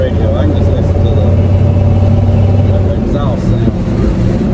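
Ford F150 pickup with a 351 Windsor V8 rumbling steadily through its exhaust, a loud continuous low drone close by with someone talking over it.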